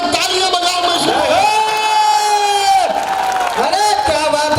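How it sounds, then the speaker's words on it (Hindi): An audience at a Hindi comic poetry gathering claps and cheers loudly and continuously, with shouts and sustained voiced calls rising above the crowd noise. "एक बार मिलकर तालियां बजाओ।"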